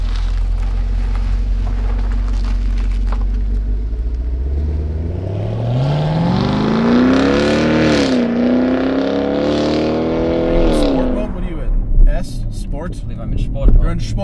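A 2016 Chevrolet Camaro SS convertible with the optional sport exhaust accelerates on the road, its engine note climbing steadily in pitch under load before easing off, a loud, continuous rumble close to the microphone.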